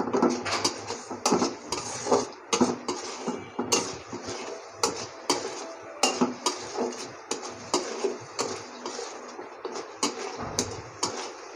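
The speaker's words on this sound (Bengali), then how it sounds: "তো অনবরত লাড়তে হবে।" A spoon scrapes and clatters against a pan as taki fish bhuna is stirred nonstop, Barisal style, giving steady repeated scraping strokes at close range with no talk.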